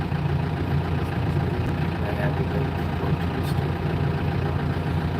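Farm tractor engine idling steadily in the open during haying work, a continuous low rumble that holds even and close for the whole stretch, with no talk over it.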